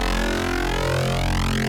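Sharp neuro FM bass from FL Studio 12's GMS synth with unison phase around 73, a thick, buzzy sustained note with swirling, shifting movement, held loud and then cut off abruptly.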